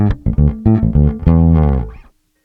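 Bass guitar through an Aguilar AG 500/700 amplifier set with flat EQ, a quick run of punchy plucked notes ending on a held note that fades, close and loud.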